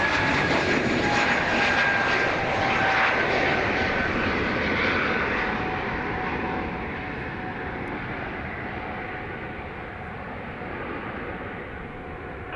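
Aircraft engines at Dublin Airport near runway 28 right, a loud sustained jet roar with a high whine that slowly fades and lowers as the plane moves away.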